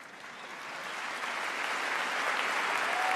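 Audience applause at a large summit plenary hall, a steady wash of many hands clapping that swells gradually louder over a few seconds, heard alone without speech.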